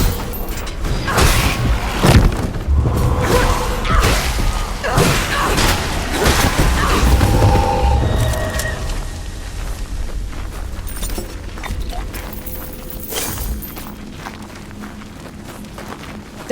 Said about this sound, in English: whoever blew those barrels caused a cave-in